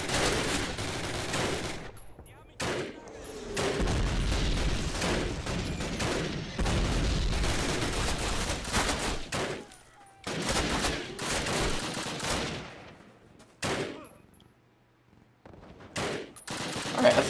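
Machine gun fire in the Call of Duty video game, with bursts of rapid shots and loud blasts that come and go between short quiet gaps, up close and dense through most of the stretch.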